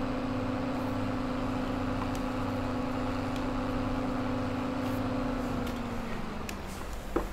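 A steady tractor engine drone in Farming Simulator 22, holding a constant tone and slowly winding down near the end, fairly loud and continuous with no talk over it.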